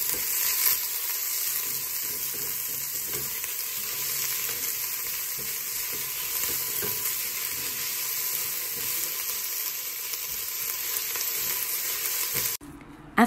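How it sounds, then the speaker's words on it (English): Onions and turmeric being mixed in a pan for lamb curry give a continuous close sizzle, steady and loud, ending in a brief clatter. "After adding your onions, just add some turmeric and mix it all together."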